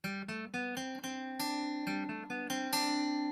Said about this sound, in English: the major scale sounds like this.